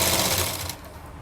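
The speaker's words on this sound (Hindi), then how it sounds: "हमने इसके चारों तरफ सिलाई लगा ली है" A sewing machine stitches around the edge of a fabric belt for a party-wear dress, giving a loud, steady mechanical whir up close that eases off slightly toward the end, with no voices.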